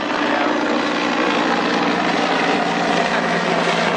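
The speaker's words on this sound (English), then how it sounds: "You bring out the copters again." Loud, steady helicopter rotor thrum and engine drone, close and continuous throughout, with no voices.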